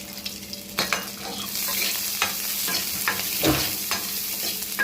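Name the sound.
stir-frying raw banana (plantain) in a pan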